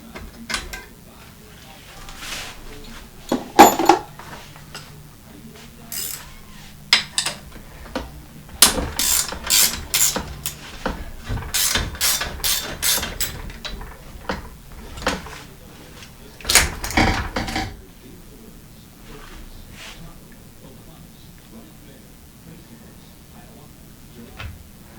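Rear wheel being removed from an old bicycle after a brake pad is taken off, giving intermittent bursts of close ratcheting clicks and metallic clatter separated by quiet gaps.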